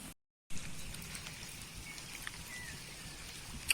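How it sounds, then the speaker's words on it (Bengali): Rain falls over an open field during a fishing outing, a faint, steady outdoor hiss with scattered soft patters and a brief dropout near the start. "বৃষ্টি ভালো এসে গেছে আবার"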